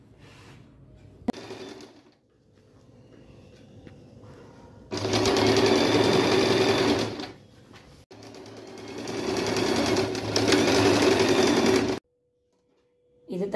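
An electric sewing machine stitches fabric neck piping in two loud, steady bursts of several seconds each, separated by quieter pauses with soft handling sounds and a low background hum.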